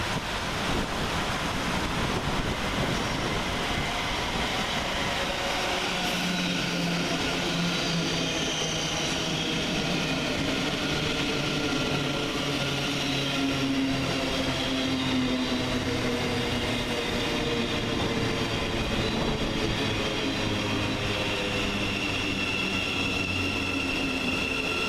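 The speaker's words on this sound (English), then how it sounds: "Next in is 700 106, working the 1457 Govia Thameslink service from Brighton to Bedford" A Govia Thameslink Class 700 electric multiple unit on the Brighton to Bedford service pulls into Luton station, a steady broadband rumble and rolling hiss holding for the whole stretch, with wind buffeting the microphone and no talk.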